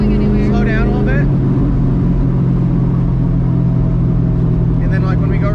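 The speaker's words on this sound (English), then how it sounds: "So you can like floor it and it'll make a bunch of noise and you won't really go anywhere." Nitrous Mustang engine floored while barely moving, giving a loud, steady, low roar that holds throughout, with people talking over it.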